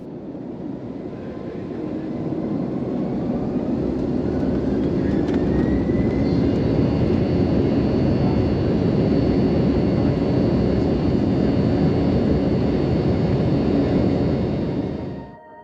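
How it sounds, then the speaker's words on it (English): A QantasLink Embraer E190 jet takes off from Alice Springs, heard from inside the cabin as a loud, steady engine roar that builds over the first couple of seconds, holds throughout and fades slightly at the end. "After reaching the end of the runway, we spun around and took off towards the north and over the city of Alice Springs itself."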